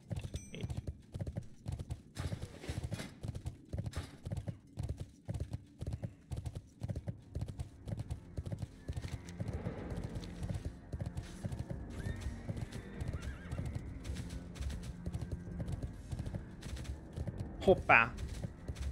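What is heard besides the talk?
horse hoofsteps in the video game World of Warcraft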